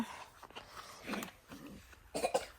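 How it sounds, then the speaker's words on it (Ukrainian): A few faint, rough coughs at close range, scattered across a couple of seconds with quiet gaps between them. "що за кашель, я не поняла"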